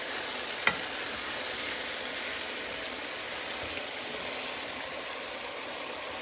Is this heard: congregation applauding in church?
no